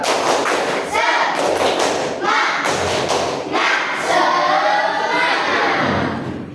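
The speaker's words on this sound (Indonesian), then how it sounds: "Ayo, tepuk semangat." Children in an Indonesian classroom doing a rhythmic spirit clap before a lesson, with loud bursts of clapping and thumping that come in repeated groups and overlap with voices talking and cheering.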